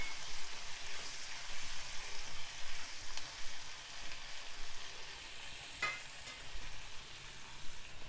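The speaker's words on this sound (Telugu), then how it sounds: "ఒక 3 మీడియం సైజు టమాటోలు ఇలా చిన్న ముక్కలుగా కట్ చేసుకొని వేసుకోవాలి. చక్కగా కలుపుకోవాలి వీటిని." Chopped medium tomatoes stir-fried in a pan for a tomato curry, giving a steady soft sizzle with spoon scrapes throughout and a brief sharper clatter near the end, no voices.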